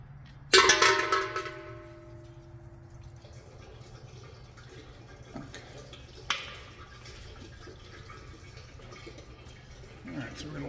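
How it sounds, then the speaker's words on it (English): Engine oil running out of the drain plug of an overheating Grand Prix car: a sharp metallic clank, then a steady close trickle of liquid with occasional drips, voices talking faintly underneath. "so we're going to let that drain"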